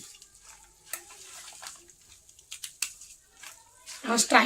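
Puffed rice soaked in water is mashed by hand, giving soft, wet squelches and crackly crunches in separate bursts. They are close and quiet at first, then grow louder and busier toward the end.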